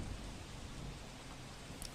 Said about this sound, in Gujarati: ભારે વરસાદ વચ્ચે અરબી સમુદ્રમાં કરંટ જોવા મળ્યો